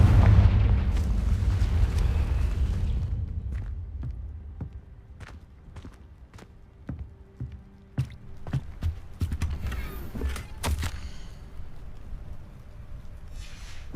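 A Confringo spell explosion in Hogwarts Legacy opens with a loud rumbling boom that fades, followed by a scatter of sharp clicks and thuds, fairly quiet overall.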